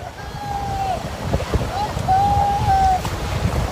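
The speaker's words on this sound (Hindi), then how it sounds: "ये देखिए अरब सागर के तट पे ये बोट राइडिंग शुरू हो गई है" A boat riding the Arabian Sea waves off the coast near Mandavi, Gujarat, with surf washing and wind buffeting the microphone, a thin high engine whine rising and falling over the steady rush of water.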